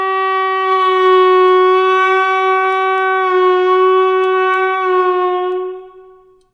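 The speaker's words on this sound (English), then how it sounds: "If the mouthpiece does move around while you're playing, it's liable to make a strange sound like this" Saxophone played with a loose mouthpiece, holding one long steady note whose pitch wavers slightly, clear and solo, then dying away at the end.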